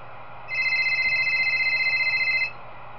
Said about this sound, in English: Okay, we get a phone call.